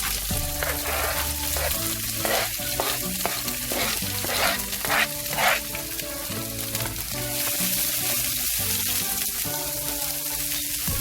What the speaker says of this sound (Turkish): soğanla biberlerini güzel bir kızartalım